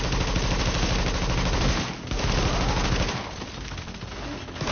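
Sustained automatic gunfire as a full magazine is emptied in The Division, a dense, loud, continuous rattle of rapid shots with one short break before the burst resumes.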